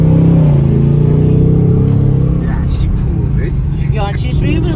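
A Ford Mustang GT 5.0 in Sandton, South Africa rumbles loudly with a deep, steady engine drone, while people talk over it.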